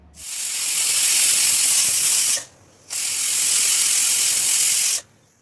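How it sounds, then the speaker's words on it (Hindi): Steam hisses loudly from a pressure cooker whistle while cooking masala vegetable khichdi, in two long bursts with a short pause in between, harsh and close. "विसल की आवाज़ भी सुन लीजिए"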